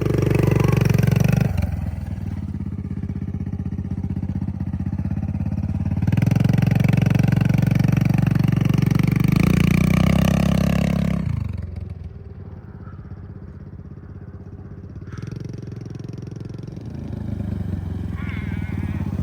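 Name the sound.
Kawasaki KLX110R dirt bike engine revving climbing hill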